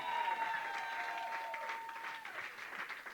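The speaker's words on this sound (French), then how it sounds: "Can we clap for Lord?" A church congregation claps in praise of the Lord for about three seconds, moderately quiet and fading slightly toward the end.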